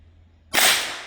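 A single gunshot at a firearm safety course shooting range, one sharp, loud crack that bursts out of near silence and then decays quickly, with no talking.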